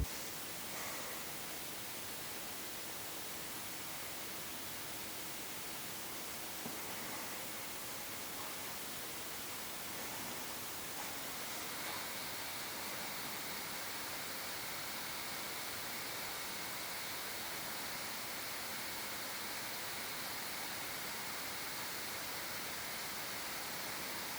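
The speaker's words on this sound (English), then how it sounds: "which just gives us a baseline idea how loud the laptop is when it's under load" Steady, loud whooshing fan noise from an MSI Crosshair A16 HX gaming laptop under load, constant like rushing air, with no talking.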